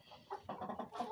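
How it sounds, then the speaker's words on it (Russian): Several hens cluck and squawk loudly close by in a farmyard henhouse, a busy, overlapping burst of agitated calls with no talking. "а то куры начинают орать"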